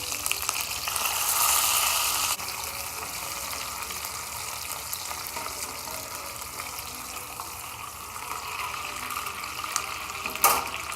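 Bone-in pork frying in a pan, a steady broadband sizzle that holds evenly throughout, briefly swelling near the start and with a short sharp crackle near the end, no talk.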